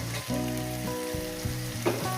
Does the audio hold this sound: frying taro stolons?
yes